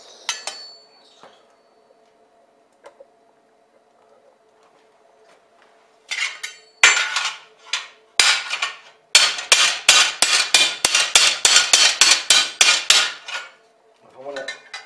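Wrought iron hammered on an anvil while shaping a garden bench part: after a quiet start, loud ringing metallic blows, first spaced apart, then a fast, steady run of strikes before stopping.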